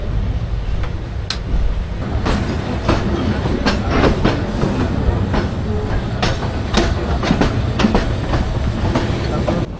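Turna Express, a Bangladesh Railway intercity meter gauge train, rumbles along steadily as heard from inside a carriage, loud continuous running noise with repeated sharp clicks from the wheels over rail joints.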